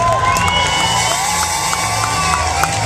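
A concert crowd at a hip-hop show cheers and whoops loudly, dense and close, with scattered claps and shouted voices over a low musical thump.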